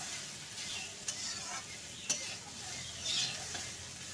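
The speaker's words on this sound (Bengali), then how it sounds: "এখন কুমড়োটাকে দিয়ে কিন্তু নাড়াচাড়া করে ভালো করে একটু ভেজে নেব।" Pumpkin pieces stir-fried in a pan, along with greens, for a crab dish, sizzle softly and steadily while a utensil scrapes and stirs them, with a few light clinks, faint and close.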